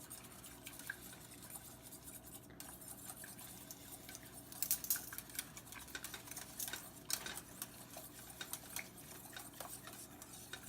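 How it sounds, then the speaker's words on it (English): Sauce being stirred quickly in a pan, a soft, steady scraping and clinking of a utensil against the pan, faint and continuous with small irregular knocks throughout. "if you add it like this, you got to really stir fast or else it'll get all lumpy"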